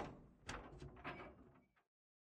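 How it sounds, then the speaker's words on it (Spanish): A door slowly creaks open in the visual novel game Chaos;Head Noah, heard as a close, fairly quiet sequence of soft knocks and scraping lasting under two seconds, with no voices. "y lentamente abrí la puerta."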